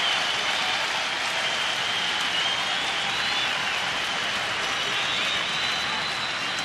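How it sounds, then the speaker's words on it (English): Steady, dense crowd noise from a baseball stadium as fans cheer with two strikes, two outs and two runners on base, a continuous roar holding at a constant level throughout with no clear breaks. "Crowd starting to get excited here with 2 strikes, 2 outs, and 2 guys on the bases."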